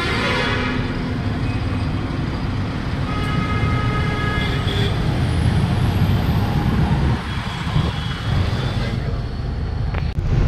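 A Pramukh Travels Volvo 9600 AC sleeper bus runs through Hyderabad traffic near Gachibowli at night. Its steady engine and road rumble fills the whole stretch, with horn toots and passing vehicles around it.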